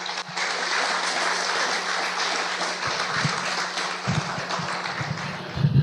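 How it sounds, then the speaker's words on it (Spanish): An audience applauds at a live evening event, a broad, even patter of clapping from a crowd that holds steady and then gives way to low rumbles and a few voices near the end. "Un aplauso."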